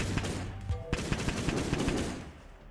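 A gunship built in Minecraft's Create Aeronautics fires a quick series of sharp, moderately loud shots in an uneven rapid rhythm that trails off into quiet after about two seconds.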